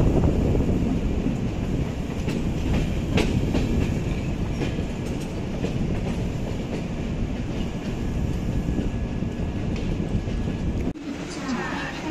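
The Howrah–Pune Azad Hind Express rolls along, heard from inside an AC 3-tier coach as a dense, steady rumble with scattered clicks from the rails, then a sudden drop in noise near the end; a voice is faintly audible underneath.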